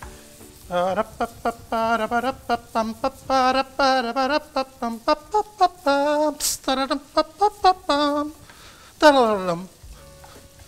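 Chicken sautés in a pan with a steady, soft sizzle running beneath someone talking almost continuously throughout.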